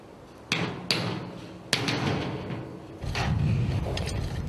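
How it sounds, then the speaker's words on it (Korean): A hammer strikes steel bolts on a steel frame construction site, three sharp metallic blows followed by ringing and scraping, close and loud against a rumbling work background. "볼트가 잘 들어가지 않을 때는 망치를 사용하는 수밖에 없다."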